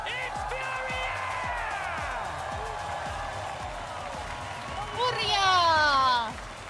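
A Brazilian crowd roars and cheers at a Rainbow Six Siege esports final, a steady wash of noise with sweeping whistle-like tones that swells louder near the end, under an excited commentator.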